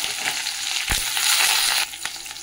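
Onions hit hot oil with cloves, cinnamon, cardamom and bay leaf for a chicken stew, a sudden loud hissing burst that holds for about a second, then settles back into a quieter, steady fry.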